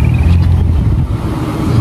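A car engine rumbles steadily at idle, a deep, loud low throb that continues without pause.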